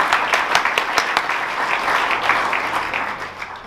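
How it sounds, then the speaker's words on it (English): A live startup-event audience claps for a CEO taking the stage, a dense, close round of applause with sharp individual claps standing out, steady throughout. "Round of applause, please."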